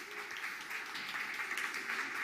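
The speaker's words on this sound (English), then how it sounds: "ladies and gents, please give a round of applause" Audience applause at the South Summit 2022 Playground Stage greets a panel speaker, a steady wash of clapping that holds evenly through the moment with no voices over it.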